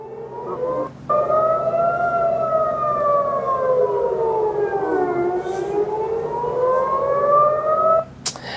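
Air raid sirens in Israel during a rocket and missile attack wail steadily, their pitch rising and falling in long slow sweeps, loud and continuous with a brief dip near the start.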